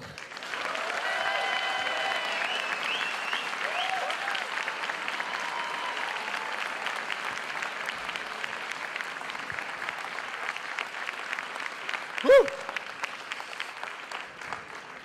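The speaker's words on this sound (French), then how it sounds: "merci pour tous ces applaudissements incroyables" Audience applause at the Tokyo Game Show 2011 inauguration, a steady wash of clapping from a large crowd that holds for the whole stretch, with one sharp louder clap or knock near the end.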